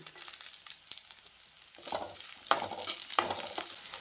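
Ivy gourd and curry leaves sauté in hot oil for a kovakkai chutney, a steady sizzle broken by several sharp bursts of stirring and scraping in the pan, close and moderately loud with no talking.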